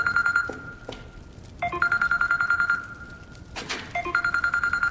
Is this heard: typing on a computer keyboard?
no